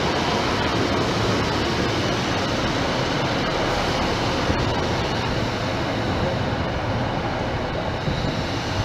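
Train on the Edinburgh Waverley to King's Cross route via Newcastle, York and Peterborough, heard as a continuous loud rumble and roar of rolling stock with no clear pauses.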